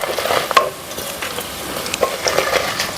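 Mustard seeds and dal sputtering and frying in hot oil for a tempering in a mango recipe, a steady close crackle with small pops and stirring scrapes running throughout.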